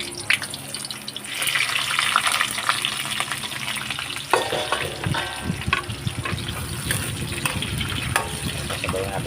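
Garlic and onion fry in about a cup of hot oil, a dense continuous sizzle with stirring scrapes and crackles throughout. It stays close and fairly loud, with someone talking over the cooking.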